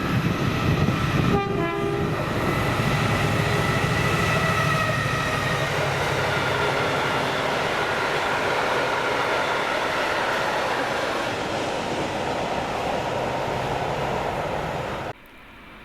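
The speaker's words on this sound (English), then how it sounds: "Then it's up to Larbert to see 6S48, Port of Workington to Aberdeen Waterloo with" Freight train 6S48 from Port of Workington to Aberdeen Waterloo, hauled by Class 70 locomotive 70801 at Larbert, sounds its horn early, then roars past with a steady rumble and clatter of wagons before cutting off abruptly.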